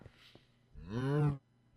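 A single cow in the video game Minecraft Sky Factory gives one short, mid-pitched moo that rises and then stops abruptly, with a faint low thump just before it.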